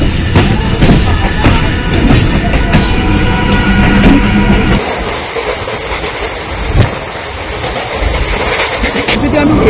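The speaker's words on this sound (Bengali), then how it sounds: "আমাদের ট্রেন এখন শিয়ালদা ছেড়ে পাড়ি দিচ্ছে একদম রামপুরহাটের উদ্দেশ্যে" Inside a crowded general compartment of the Maa Tara Express pulling out of Sealdah, a loud, steady rumble and rattling clatter fills the carriage, its deep roar easing partway through while the rolling noise continues.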